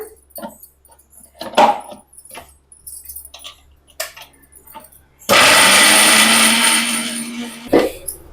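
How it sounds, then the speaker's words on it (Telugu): A mixer grinder blending tomatoes into paste whirs loudly for a few seconds after some light clinks and handling noises, then cuts off abruptly. "చూడండి మిక్సీ పడుతున్నానా."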